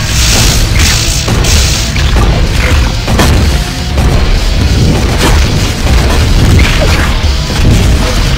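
Grenades blast again and again in the Quake Arena Arcade shooter, a loud, dense run of booming explosions and crashing impacts that overlap with almost no pause.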